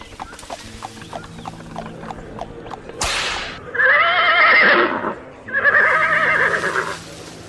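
A horse pulling a tonga cart clip-clops steadily, then gives two loud, drawn-out neighs close by, with a short gap between them.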